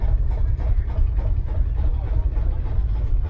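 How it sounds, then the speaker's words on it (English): A Field Marshall tractor, a single-cylinder diesel at a steam rally, chugs steadily in the background as a low, continuous engine rumble mixed with outdoor ambience. "Here a Field Marshal going off in the background."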